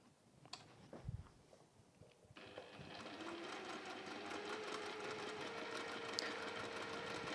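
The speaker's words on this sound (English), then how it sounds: "sew on both of those lines this time" Sewing machine stitching lines through quilting fabric, starting after a few soft handling knocks and then running as a steady, fast mechanical whirr with rapid ticking needle strokes, close and continuous.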